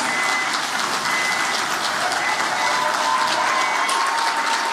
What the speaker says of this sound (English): Give a round of applause to my brother, Chavez Augustus.